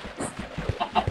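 Minecraft chicken clucking in a few short, fairly quiet bursts over roughly a second, with faint game background sound and no speech.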